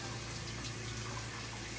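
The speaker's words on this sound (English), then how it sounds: "Let me wash my hands real quick." Kitchen tap water runs steadily as hands are washed, a continuous close hiss and splash with no pauses and no speech.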